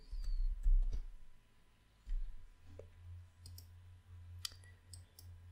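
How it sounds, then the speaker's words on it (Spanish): Mouse clicks, right-clicking while setting component properties in Mathematica System Modeler software, come as a few sharp, close, quiet clicks spread across a near-silent room with a low hum. "vamos a hacer clic derecho"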